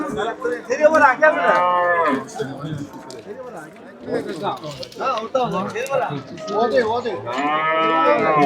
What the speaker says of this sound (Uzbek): Samarqand viloyati Kattaqo'rg'on shahar mol bozoriga kelganmiz